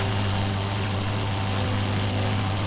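A WWI-era aircraft engine drones steadily and loudly in a flight combat game, with a constant low rumble and a hum that does not change, and no talk.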